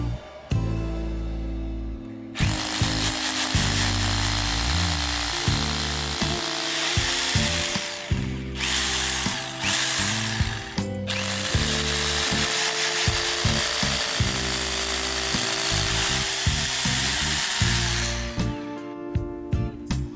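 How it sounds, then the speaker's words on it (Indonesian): An Ingco RH10508 rotary hammer drills into concrete in impact mode. The loud, steady hammering runs in long bursts with short pauses between them, close up and without any talk. "untuk pengeboran beton kita harus menggunakan bore impact ya"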